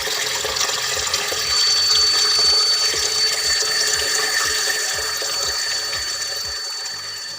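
Water is pumped into a small tank in a school project with a steady, loud rushing and splashing, a constant hiss of flowing water that goes on without a break.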